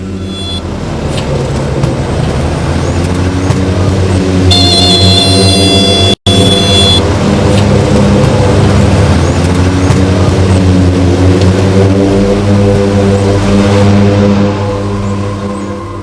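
A small airplane touches down on the Simikot airstrip, ringed by high mountains, with a loud, sustained engine drone and tonal whine heard close from inside the cabin. A short dropout occurs midway.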